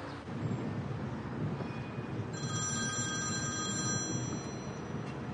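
A telephone rings indoors, a bright electronic ringing tone that starts partway through and repeats over a low rumbling background, with no speech.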